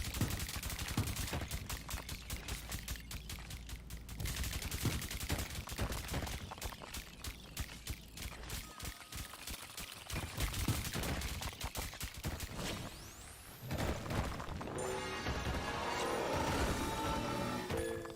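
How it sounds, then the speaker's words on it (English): Repeated sharp blasts and rapid bursts of gunfire-like bangs from the video game Dome Keeper, dense and loud throughout, with a heavier rumbling explosion near the end. "these explosions are probably the coolest thing about the update"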